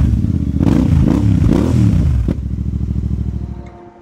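A Royal Enfield Super Meteor motorcycle fitted with AEW exhaust canisters, baffles removed, revs loudly and close, rising and falling through a few throttle blips before settling into a deep, steady, lumpy idle that fades near the end.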